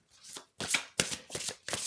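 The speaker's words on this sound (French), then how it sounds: "On va tirer une carte" Tarot cards are shuffled and drawn by hand, giving a few close, soft riffling bursts in an uneven rhythm, quiet and alone.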